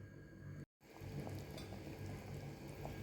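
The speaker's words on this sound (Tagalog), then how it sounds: "kumukulo na po yung ating chicken binakol" Steady bubbling and simmering of a pot of Ilonggo chicken binakol soup on the boil, a continuous soft roil with a brief cut to silence near the start.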